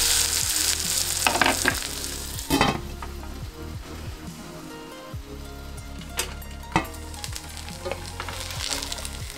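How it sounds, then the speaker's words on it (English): Vegan okonomiyaki pancake frying in a lidded pan over medium-low heat gives a steady, dense sizzle and crackle that runs the whole time, close and fairly loud, with a few sharper pops and no talking. "let it fry over medium low heat until cooked through"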